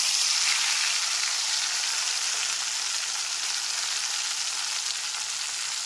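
Nigella seeds with a green chilli and tomato paste fry in a pan for a Bengali pabda fish curry, giving a steady, close hissing sizzle that holds evenly throughout with no voices.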